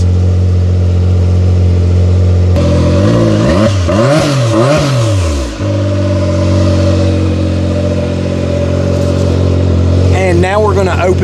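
A factory-exhaust engine runs close to the tailpipe with a steady low idle drone, broken by a few quick revs that rise and fall, while people talk over it.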